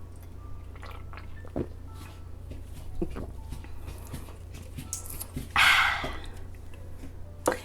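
A dog chews on a ball with a broken squeaker, giving soft, wet squishing and faint squeaks in the background of a quiet indoor room, with a brief louder burst partway through.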